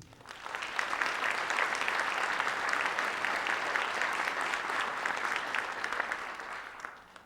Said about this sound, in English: Please help me to open this evening's ceremony with a round of applause for all of our inductees